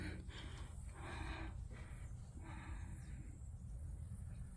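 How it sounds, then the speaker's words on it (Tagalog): Heavy panting after climbing Kreuzberg mountain in the Rhön, Germany: faint, rapid breaths and puffs close to the microphone, repeating irregularly over a quiet outdoor background. "Grabe, ang hingal ko"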